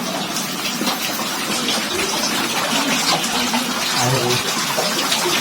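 Natural spring water gushes steadily from seepage in the rock in a coastal forest, a close, continuous splashing flow with no pauses.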